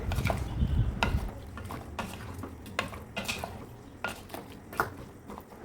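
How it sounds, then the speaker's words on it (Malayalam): Ash gourd peel, fish and spices get stirred together in a pot, with repeated scraping clinks of a spoon against metal and soft wet mixing sounds at an irregular pace. "ഇനി കുമ്പളങ്ങയും കുറകും മസാലകളും എല്ലാം കൂടി ഒന്ന് ഇളക്കി യോജിപ്പിച്ച്"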